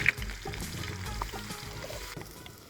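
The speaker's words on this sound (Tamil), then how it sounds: "எண்ணெய் காஞ்சிருச்சு, வெங்காயம் போட போகிறோம்" Chopped onion hitting hot oil in a home kitchen pan gives a busy, steady sizzle and crackle, close and moderately loud, with light scraping and stirring noises throughout.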